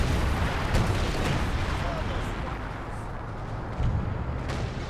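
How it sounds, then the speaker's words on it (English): An artillery barrage in the WWII strategy game Company of Heroes 2 rumbles as a dense, continuous wash of distant booms and blasts, steady and loud throughout, with a few sharper impacts standing out. "He's calling in some artillery in this region."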